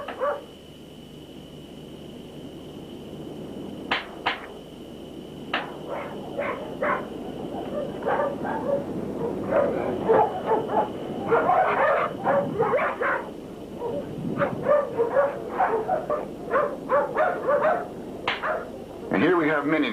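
Pit bull dogs at a kennel barking in short repeated bursts, with yips and whimpers scattered among them at close range, while someone talks over the dogs throughout.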